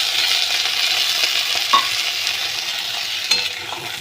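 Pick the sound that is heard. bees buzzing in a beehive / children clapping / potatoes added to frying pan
potatoes added to frying pan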